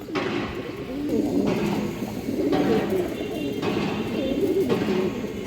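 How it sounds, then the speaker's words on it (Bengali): Chuitthal Musaldam pigeons coo in low, rolling, repeated calls that overlap steadily and stay close and moderately loud throughout. "যার পছন্দ হয় আপনারা এই চুইঠাল মুসলদম পেয়ারটা নিতে পারবেন"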